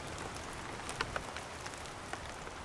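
Steady rain falls through a cold Victorian forest where koalas shelter, a dense even patter with occasional louder drops striking close by, no voices present.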